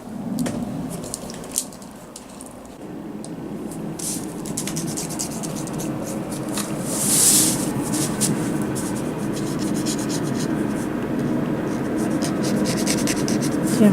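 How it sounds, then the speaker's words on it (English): A shish kebab skewer dipped in transparent Liquitex ink scratches across paper, a close, continuous scraping and rubbing texture with small tapping accents, heard alone without talk. "I draw with the shish kebab skewer"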